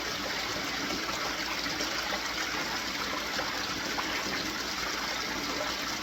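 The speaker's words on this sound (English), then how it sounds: "these mats need a lot of water flow, so I got the pump turned up" Pumped water rushing steadily over gold prospecting sluice mats on the Wisconsin River, a loud continuous gush with a dense, unbroken wash throughout.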